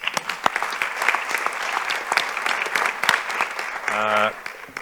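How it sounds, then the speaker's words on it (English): An audience at an education foundation event applauds, a dense, steady patter of clapping from a room of people that swells slightly before fading, with a brief tonal sound near the end. "Round of applause"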